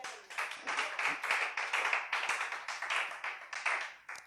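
A church congregation claps steadily in rhythm to acclaim the Lord during worship, about three claps per second, loud and close, with no speech over it.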